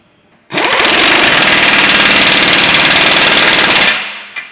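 A pneumatic air impact gun rattles hard and continuously for about three seconds while tightening an 18mm nut on a Ford Mondeo Mk5 hub, loud and close, then spins down.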